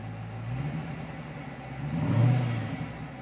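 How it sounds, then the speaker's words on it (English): A 2011 Dodge Challenger SRT8 392 Inaugural Edition with its Hemi V8 rumbles at idle, then is revved in a rising, swelling blip that peaks loudly before settling back, close by and with no talk. "Mrs. Gibson, would you do me the honor of hopping in the car and revving the engine up?"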